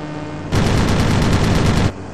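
Aircraft guns fire in the Warbirds flight simulator game, a single dense burst of rapid rounds lasting over a second, loud and close against a steady engine drone.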